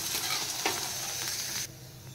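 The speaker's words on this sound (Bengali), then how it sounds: "এবার আমি ঘিয়ের উপর মাখনাটা দিয়ে দেব। এবার এটা হালকা আঁচে ফ্রাই করে নেব।" Makhana (fox nuts) fry in ghee over low heat, a soft steady sizzle with a stirring scrape near the middle, close and quiet, then dropping to a gentler hiss near the end.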